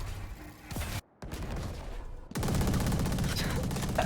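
An Odin machine gun in Valorant fires sustained automatic bursts, a dense rapid rattle that breaks off briefly and then resumes louder and continuous, with esports commentary underneath.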